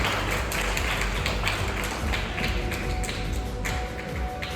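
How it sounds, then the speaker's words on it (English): Quiz competition audience applauds, a dense, steady rattle of many hands clapping close by for several seconds with no voices. "Give them a huge round of applause"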